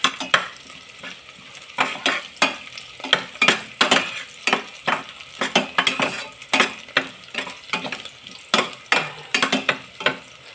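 Food frying in a pan with steady sizzling under repeated scraping strokes of a utensil stirring it, a brisk uneven rhythm of clatters close by, no voices.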